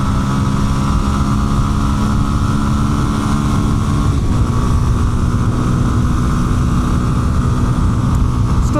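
Engine of a 2026 Kawasaki KLX230 Sherpa S dual-sport, a 233 cc single, drones continuously as the bike accelerates past 60, steady and loud under heavy wind rush with no talk.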